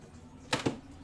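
Two quick, close mouse or button clicks in quick succession while playing the train simulator SimRail, over a faint background hum.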